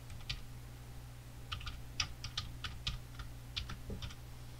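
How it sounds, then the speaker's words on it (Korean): Keystrokes on a computer keyboard while text is typed into a design program, arriving as scattered clicks and short quick bursts over a steady low hum, fairly faint and with no talking. "컴포지션 클릭하시고 텍스트를 타이핑해 주세요."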